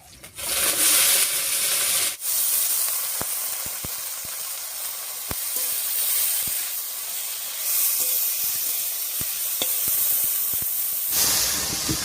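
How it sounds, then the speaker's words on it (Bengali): Dheki greens hit a hot pan in a loud burst of hissing sizzle that stays strong and steady, broken by sharp stirring scrapes and ticks, with no voices. "এবারে শাকটা দেবো।"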